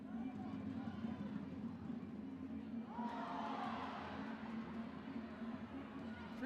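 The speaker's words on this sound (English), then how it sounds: "you heard the ooh and ah from the crowd" At a women's Northern Super League football match between AFC Toronto and Halifax Tides, the stadium crowd's murmur swells into a rising ooh and aah behind a commentator's voice, then settles back into a steady hum.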